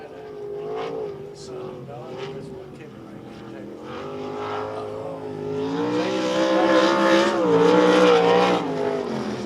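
An ASCS Elite Non-Wing sprint car engine roars around the Devil's Bowl Speedway track on a qualifying lap, its pitch rising and falling and growing louder toward the end, with an announcer talking over it.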